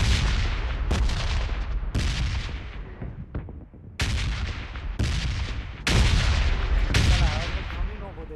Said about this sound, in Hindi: देखो तीन तीन एडब्ल्यू एक साथ चल रही है धड़ाधड़